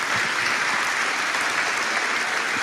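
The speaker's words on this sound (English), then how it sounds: "Round of applause," Steady audience applause at an inspirational talks event fills the whole stretch, dense and even, with no voices over it.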